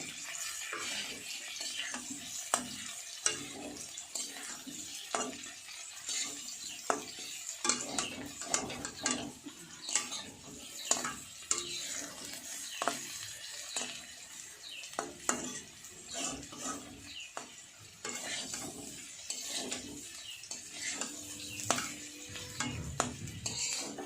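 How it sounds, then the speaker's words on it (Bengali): Potatoes fry in a pan, a continuous sizzle broken by frequent scraping and clinking as a utensil stirs them against the metal, close and fairly busy, with no talking. "আলু ভাজা হচ্ছে"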